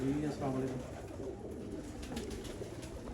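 Dub pigeons of the Mian Nazir bloodline cooing at a rooftop loft, several moderately close coos early on fading into a softer murmur, while someone speaks.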